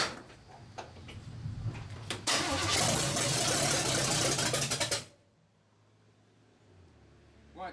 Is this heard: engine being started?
yes